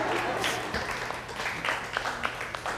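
Applause from an audience at a wedding show in a garden venue, a brief, fairly quiet patter of clapping mixed with murmuring voices and some talk.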